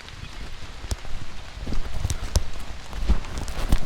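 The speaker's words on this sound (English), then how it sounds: "I woke up and it's raining." Light rain patters on a wet hiking trail along the Bruce Trail, a soft steady hiss dotted with scattered sharp drips and occasional footstep-like taps nearby.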